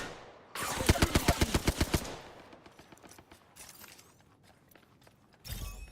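A rapid burst of automatic gunfire rattles out in Apex Legends, about a dozen loud evenly spaced shots over a second and a half, followed by scattered fainter shots and a final sharp blast.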